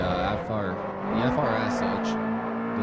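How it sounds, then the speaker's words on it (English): A Hyundai Genesis Coupe in the Forza 4 racing game is thrown around a track, its engine droning steadily with pitch shifts through the clip while someone talks over it. "It was a little Asian supercar that I absolutely love to throw around the track like this."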